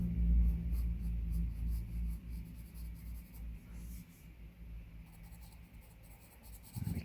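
Pencil drawing and shading on paper, close scratchy strokes in quick repeated bursts with low rumbling in the background.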